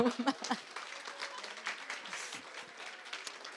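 Applause from an audience at a church mothers' school lecture, a short burst of clapping that starts strongly and then thins into quieter scattered claps.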